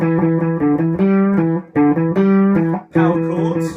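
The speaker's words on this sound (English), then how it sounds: "So to recap, our single note riff sounds like this." Distorted electric guitar playing a single-note riff, each note picked cleanly in a steady rhythm across three repeated phrases, loud and close with no voices.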